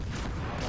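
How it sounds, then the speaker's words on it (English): Naval gunfire from a warship in World of Warships: a short, loud booming burst of cannon fire with broad rumble, heard alone at close range. "I'm gonna just try some blind shots, see if I can get him on fire."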